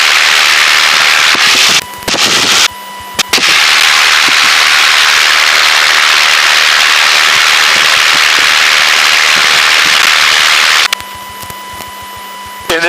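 A light aircraft engine running up to about 2200 RPM during a pre-takeoff check, a loud, steady, close cockpit roar that cuts out briefly a few times.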